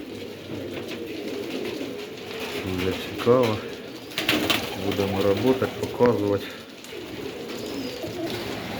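Pigeons coo in a dovecote, their low throaty calls rising and falling close by, while someone talks over them.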